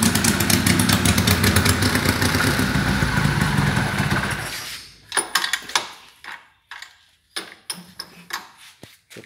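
An engine runs with no exhaust fitted inside a workshop, a loud raw clattering roar for about five seconds before it cuts out, followed by scattered metallic clanks and knocks in the quiet.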